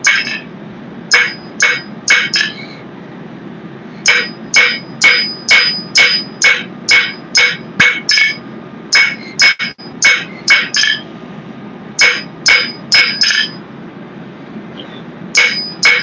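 Blacksmith's hammer forging a knife from 5160 coil spring steel, ringing in rapid bursts of sharp, bright strikes with short pauses between groups, loud and close over a low forge roar.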